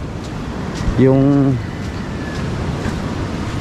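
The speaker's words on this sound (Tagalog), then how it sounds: "Pag umahampas dito yung alon" Ocean waves wash onto the shore in a steady, soft surf, with a brief voice speaking over it.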